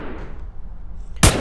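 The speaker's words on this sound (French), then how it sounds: "là c'est le pétard" A single loud firecracker bang goes off near the end, sharp and broadband, following a stretch of low rumbling background noise during a police security operation.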